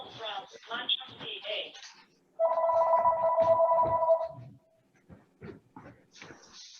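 A phone ringing during a COVID-19 vaccine webinar, a steady electronic ring lasting about two seconds between stretches of a person talking.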